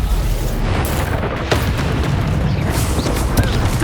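Rumbling magical blasts from the Bombarda spell in the Hogwarts Legacy video game, a dense continuous barrage of booms and bursts with no clear gaps between them.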